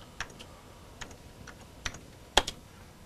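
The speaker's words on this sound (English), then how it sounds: "type in my text," Sparse keystrokes on a computer keyboard while entering text into graphics software, about half a dozen separate clicks spaced unevenly, faint and close in a quiet room.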